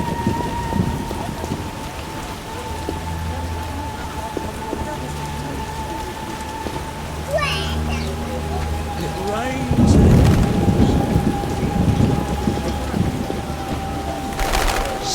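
Heavy rain falls steadily in the video game The Witcher, with low rumbling thunder and a loud crack of thunder partway through, constant and close, with background game sounds under the downpour.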